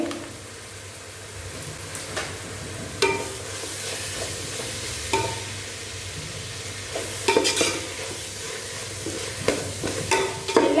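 A spatula works masala powders, meat masala and garam masala through the pot for a Lakshadweep-style biryani, making rhythmic scrapes and clacks over a soft, constant sizzle; several sharper knocks stand out near the end.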